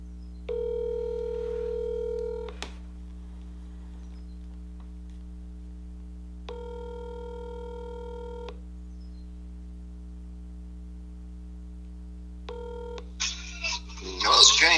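A telephone receiver gives a steady dial tone while a number is keyed in, bursts of touch-tone beeps separated by pauses, close and clear, ending in a brief rustle and faint voice at the end.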